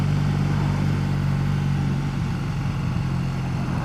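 A 2014 Triumph Bonneville motorcycle engine on a demo ride through town, a steady close drone at low revs held in a low gear and easing off slightly toward the end, with broadband wind noise over it.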